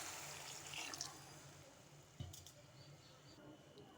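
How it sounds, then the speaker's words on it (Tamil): Water poured from a tap into a pot of vegetables for veg kurma, a soft running splash with a brief clatter of a vessel midway, faint and close. "இப்போது தண்ணி ஊற்றி நம்ம கொஞ்சம் வேக வச்சிடலாம் காயை."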